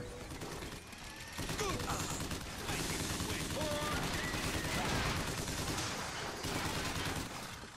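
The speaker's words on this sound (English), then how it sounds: "Crank gun." Rapid bursts of crank gun fire from the video game Bioshock Infinite, loud and sustained with overlapping shots and mechanical clatter, while a voice talks over the shooting.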